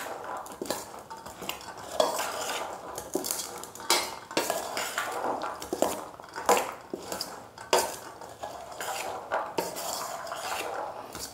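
Boiled potatoes being stirred into chana chaat in a bowl, with repeated close clinks and scrapes of a spoon against the dish in an uneven rhythm, no voices.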